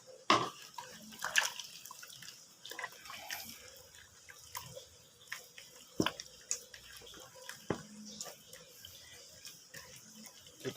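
Water trickles and drips into pempek dough in a bowl, a soft uneven series of small splashes and taps with faint handling noise, close and fairly quiet.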